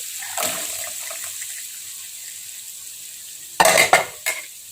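Carrots stirred in a cooking pot of vegetable soup with a light sizzle, an early scrape, then a loud burst of clattering and scraping near the end, all close and without talk.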